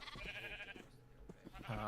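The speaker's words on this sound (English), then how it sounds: "you've got 2 baby sheep in there now" Faint, brief bleating from sheep, including baby sheep, in the Minecraft video game, a short wavering call or two over a quiet background.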